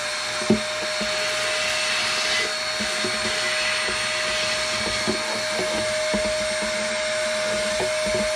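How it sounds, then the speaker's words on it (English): A vacuum cleaner nozzle sucks out the inside of a Collings C100 Deluxe acoustic guitar with a steady close roar and a constant whine. Soft knocks and taps on the wooden body sound now and then, and no one speaks. "Vacuum out some more."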